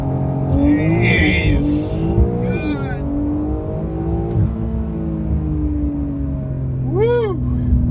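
A tuned Porsche 992 Carrera S with an M Engineering tune accelerates hard, its engine rising through repeated surging pulls, loud and close from inside the cabin, with a man exclaiming briefly over the roar.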